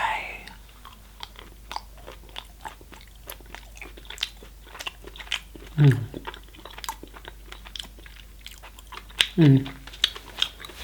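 A crème brûlée chocolate is bitten and chewed close up, with two distinct crunchy bites amid soft repeated mouth clicks and chewing, under quiet whispered talk.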